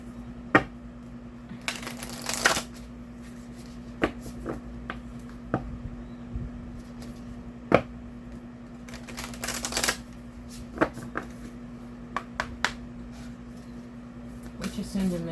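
An oracle card deck is shuffled softly, with scattered light clicks and a couple of brief riffling bursts over a low steady hum in a quiet room.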